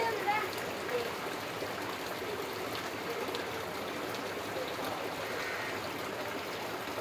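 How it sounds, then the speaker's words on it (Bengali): Heavy rain pouring outside, a dense, steady hiss and patter at a soft, even level throughout, with a voice faintly present. "যেহেতু বাইরে একদম প্রচুর বৃষ্টি"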